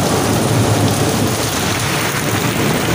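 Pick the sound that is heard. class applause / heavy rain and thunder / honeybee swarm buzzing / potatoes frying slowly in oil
heavy rain and thunder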